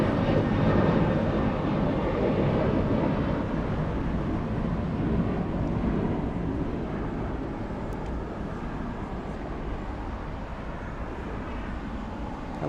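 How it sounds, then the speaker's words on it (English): An Alaska Airlines Boeing 737-900ER jet airliner at LAX, heard as a broad, steady engine roar that stays loud and slowly eases off through the clip, with no speech. "Alaska 1334 flying to Belize City. That's a 737-900"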